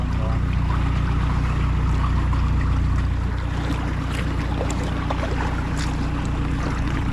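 Steady low rumble of water and wind around a kayak paddling across Pontcysyllte Aqueduct before a storm, with occasional splashes and faint knocks, no clear voices.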